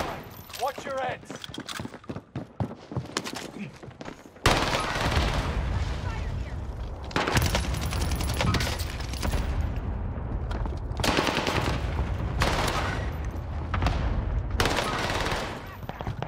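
Rapid automatic gunfire in the video game Warzone, long sustained bursts of loud shots separated by brief pauses, with players talking over the shooting.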